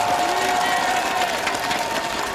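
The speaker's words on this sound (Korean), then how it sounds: "대구 시민의 승리의 기운을 모아 힘찬 박수로 응원해 주십시오" Crowd at a Daegu presidential campaign rally for Lee Jae-myung applauds and cheers, a dense roar of clapping and voices, loud and continuous, with a faint steady tone beneath.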